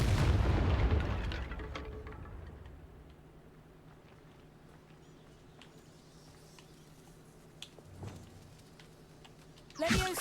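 Confringo fire-blast spell in Hogwarts Legacy, one loud booming explosion at the start that rumbles and fades over a few seconds, followed by quiet ambience and a second sharp burst near the end.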